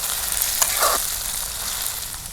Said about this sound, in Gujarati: ભીંડાને આપણે તેલમાં બરાબર કકડાવવાના છે